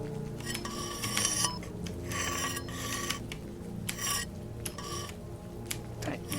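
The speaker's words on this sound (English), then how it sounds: "Let's sharpen that knife." A knife is sharpened in a knife-sharpening video game, with repeated rasping strokes of blade on stone in short bursts separated by brief pauses, fairly quiet with a faint ringing tone underneath.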